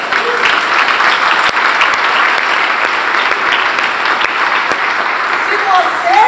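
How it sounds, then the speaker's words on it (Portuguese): Congregation applause at a church congress session in Paraná, with many hands clapping in a dense, steady wash. It stays loud and even from start to finish. "Você pode dar um aplauso a Ele?"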